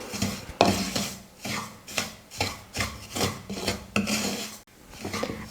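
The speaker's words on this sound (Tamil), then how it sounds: "2 நிமிஷம் ஸ்டவ்வை லோ ஃப்ளேமில் வச்சுட்டு வறுத்துக்க போகிறேன்" Semolina (rava) roasts in ghee in a pan while a spoon scrapes it in steady, rhythmic rubbing strokes about twice a second, close and fairly loud, with no talking.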